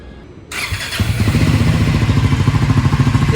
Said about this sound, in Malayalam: ഇതാണ് ഇതിൻ്റെ സൗണ്ട് വരുന്നത് കേട്ടോ, എക്സോസ്റ്റ് നോട്ട് വരുന്നത്